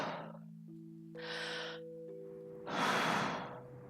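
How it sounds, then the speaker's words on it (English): Three slow, deep breaths drawn in and let out, each a soft airy rush, quiet and close, over a low sustained musical drone. "Let's take a few deep breaths in."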